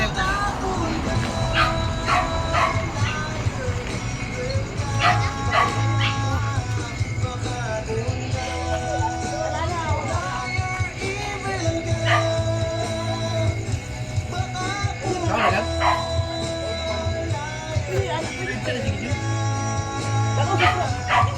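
Dog yipping, whimpering and giving short barks close by at an outdoor bonfire, mixed with background voices and a steady low hum throughout.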